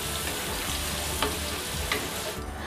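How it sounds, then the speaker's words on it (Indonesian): Steady, dense sizzling of potatoes slowly frying in hot oil until cooked, close and continuous, with a few soft clicks and stirring bumps, no voices. "goreng kentang pelan-pelan sampai matang"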